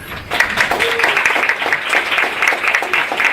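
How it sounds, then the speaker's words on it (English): An audience at a talk on the women's movement applauds two guests, a steady wash of many hands clapping together for over three seconds, moderately loud and even, with a faint voice briefly under it. "So round of applause to both our guests."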